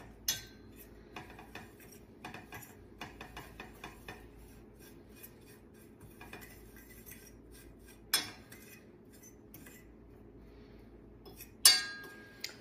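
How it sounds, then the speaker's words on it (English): A utensil stirs a butter, brown sugar and cinnamon mixture in a pan over low heat, giving quiet, scattered scrapes and light clinks with a couple of sharper knocks against the pan, fairly close and without talk. "And we're going to stir this until it's bubbly."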